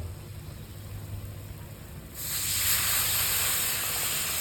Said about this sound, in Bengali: আমার মশলা কষানো হয়ে গেছে আমি এবার দিয়ে দেবো জল